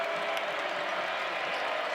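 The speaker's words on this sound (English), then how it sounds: "Crowd on its feet." Basketball arena crowd at a Stanford vs. Wake Forest men's college game roars and applauds steadily after a go-ahead basket, a dense, sustained wall of cheering and clapping with no pauses.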